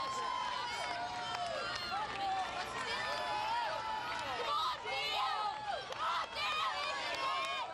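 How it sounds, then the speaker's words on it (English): A crowd at the UK's Strongest Man 2005 competition in Customs House cheers and whoops loudly and continuously, with shouts rising and falling while a commentator talks over the noise. "Plenty of support for Dale Norris in the crowd there."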